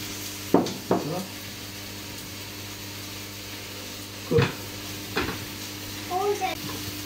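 Turkey steaks searing in a pan sizzle steadily, with a few sharp clatters of utensils against the pan, close and moderately loud.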